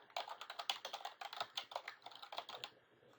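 Rapid keystrokes on a computer keyboard as a subject line is typed, a quiet, close run of crisp clicks that stops near the end.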